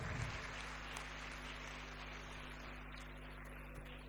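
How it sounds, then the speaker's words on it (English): A conference audience applauds its speakers: a faint, distant patter of clapping that thins out over a few seconds, sitting on a steady electrical hum and hiss. "Let us give all our speakers another big round of applause."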